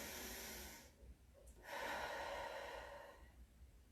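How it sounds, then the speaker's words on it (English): Breathing during a yoga session: a slow, close inhale and exhale with a short pause between, soft and unaccompanied by talk. "Then take a breath."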